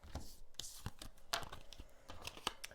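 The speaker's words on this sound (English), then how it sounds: "I'm shuffling the cards" Tarot cards being shuffled by hand during a reading, giving soft papery riffles and light snapping flicks in irregular bursts, close and fairly quiet with no talking.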